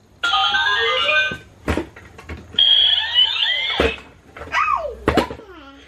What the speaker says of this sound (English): It's very loud and it plays like Christmas music, and there's not a volume setting like most kids' toys